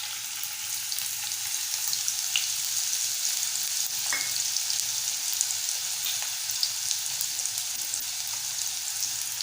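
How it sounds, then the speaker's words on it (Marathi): Finely chopped small onion drops into a spoonful of hot oil in a heated kadhai for tempering, giving a steady, even sizzle with occasional crackles and a faint stir, with no talking. "इथे आपण छोटा कांदा बारीक चिरून घेतलाय,"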